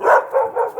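A border collie barks three times in quick succession, close by and fairly loud, each bark a sharp mid-pitched burst with short gaps between.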